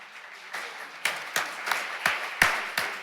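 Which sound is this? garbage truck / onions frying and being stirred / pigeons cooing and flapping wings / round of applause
round of applause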